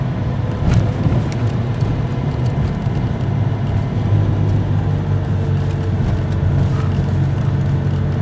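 A 1996 vehicle with a newly installed fan clutch drives along, its engine giving a steady low drone and road rumble, loud and continuous without any talk.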